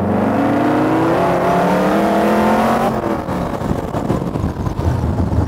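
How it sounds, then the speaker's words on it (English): A 1932 Ford street rod roars loudly as it accelerates, the engine note climbing steadily for a few seconds before shifting into a rougher, throaty rumble, with no voices over it. "We'll show you a little bit of what the accelerator will do."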